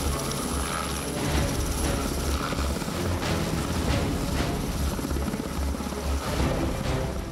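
Army helicopter in flight, a loud, steady rotor thump and engine roar that runs continuously with no voices.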